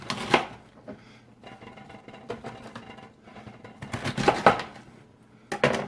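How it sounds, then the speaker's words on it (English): Knife chopping through a head of cabbage on a cutting board in bursts of rapid cuts, close and crisp, with short pauses between strokes. "my cabbage in slices that will fit in the mouth of my food processor. So I just cut them like this"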